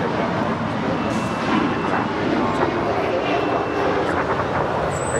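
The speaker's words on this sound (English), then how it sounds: "This is the Air Tahiti Nui Dreamliner coming from Pabete, flight 8, about to touch down at 25 left." Air Tahiti Nui Boeing Dreamliner landing on runway 25 left at LAX, its jet engines a steady broad rushing roar throughout, with a person talking over it.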